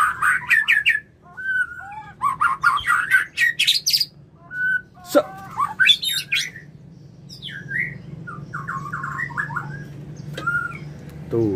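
Loud, varied white-rumped shama song with rich whistles, rapid chirps and trills in quick bursts, fairly close over a low steady background hum.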